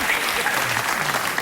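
A late-night talk show studio audience applauds steadily, a dense wash of clapping that fills the moment, with voices faintly mixed in beneath.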